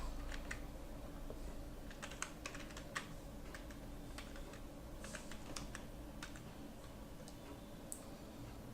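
Steady typing on a computer keyboard while a Gmail account is being set up, with irregular clustered key clicks against a low background hum, no voices.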